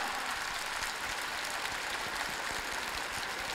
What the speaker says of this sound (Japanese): じゃあちょっと拍手いただけますでしょうか春生まれの方